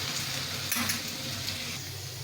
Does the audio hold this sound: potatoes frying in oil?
yes